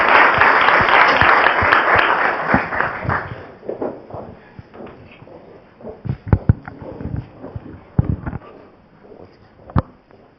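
Applause from a research workshop audience after a presentation, loud and dense at first, then thinning out over several seconds into scattered individual claps and a few thumps before stopping.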